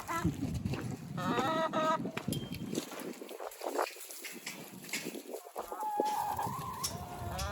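Chickens, laying pullets, cluck and squawk close by in bursts on a farm, with a rooster-like call and outdoor rustling mixed in.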